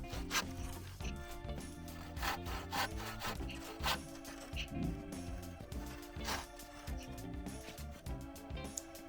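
A carpenter's handsaw cuts through wood in a joiner's workshop, with a steady run of loud, rhythmic rasping strokes backed by tonal sound throughout.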